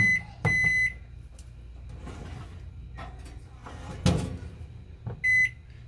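Timer on a convection oven being set: sharp electronic beeps at the start and end, a couple of short tones with quiet handling clicks and button presses between, close by.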